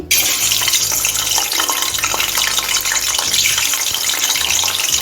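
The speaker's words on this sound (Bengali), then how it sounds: "এখন আমি ডিমটা ভেজে নিচ্ছি" Eggs frying in hot mustard oil in a wok give a loud, continuous hiss and crackle that runs without pause from start to finish, close up with no voices.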